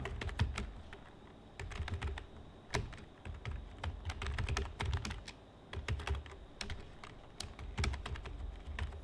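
Rapid, uneven keystrokes clatter on a computer keyboard, close and steady for several seconds, with short pauses between bursts and no talking.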